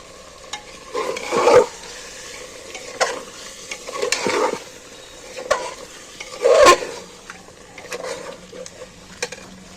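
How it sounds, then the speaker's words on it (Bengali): Fried potatoes and chicken are tipped into a pan of cooked-down spice masala for a fennel-paste chicken curry, giving a low sizzle broken by several loud bursts of stirring, scraping and utensil clatter against the pan. "এইবার আমি ভেজে রাখা আলু আর মাংস একই সাথে তুলে দিচ্ছি"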